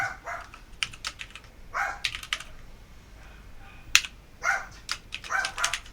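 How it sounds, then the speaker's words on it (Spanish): A pet dog barks in bursts of sharp yaps nearby, mixed with clattering computer keyboard typing in a home workspace. "Y mientras mi perro ladra, no sé si se escucha."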